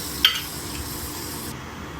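Whole spices sizzling in hot oil for mutton keema, a steady close hiss from the pan with one brief utensil tap near the start.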